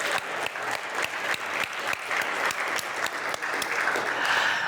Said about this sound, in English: Let's give another round of applause for the fine folks that made us lunch today.